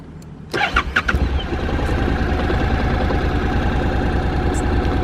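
A Honda CTX700N DCT motorcycle with stock exhaust cranks with a few quick sputters, then catches and settles into a steady, even idle that carries on to the end.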